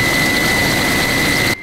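Steady, loud helicopter engine and rotor drone heard from inside the cabin during a flight over the Sochi resort, with a sustained high whine, unbroken until it cuts off abruptly at the end.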